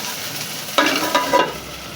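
Okra (bhindi) frying on low heat in a pan, a soft hiss that turns into a louder crackling sizzle partway through, then settles, with no voices.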